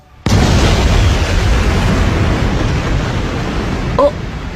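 Explosion in an animated show erupts suddenly into a loud, sustained roaring blast that rumbles on for several seconds, with a brief sharp pop near the end.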